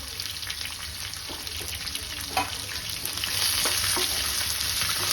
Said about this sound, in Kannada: ಸ್ವಲ್ಪ ಉಪ್ಪು ಹಾಕಿ ಹುರ್ಕೋಣ ಬೇಗ ಸಾಫ್ಟಾಗಿ ಬೇಗ ಬೆಂದೋಗ್ಬಿಡುತ್ತೆ